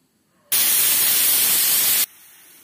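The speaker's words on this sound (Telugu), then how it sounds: "ఈ విధంగా 4 విజిల్స్ వచ్చేసినాయండి" A pressure cooker on a gas stove, cooking jaggery rice pudding, lets off one loud, steady hiss of escaping steam lasting about a second and a half, then stops abruptly, leaving quiet kitchen background.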